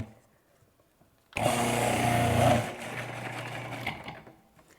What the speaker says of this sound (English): I'm going to use my Cuisinart